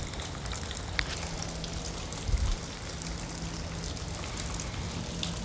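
Outdoor rain falls in a steady hiss of drops around a yard where a pit bull is out, with a soft thump partway through and no talking.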